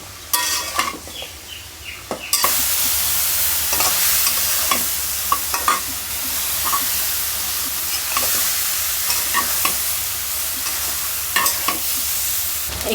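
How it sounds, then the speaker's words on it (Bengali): Lafa leafy greens sizzle in a hot pan while a utensil stirs them, with repeated scraping and clinking strokes over a constant frying hiss, close and loud, with no talking. "একটু একটু রান্না করতে করতে ভালোই রান্না হয়ে গেল"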